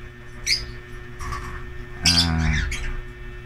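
Pet birds in a breeding cage, with a watchful green pale fallow hen among them, give a few sharp squawking chirps in separate bursts over a steady low hum, the loudest call coming near the end.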